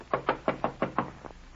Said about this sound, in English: You jump at the sound of a knock on the door.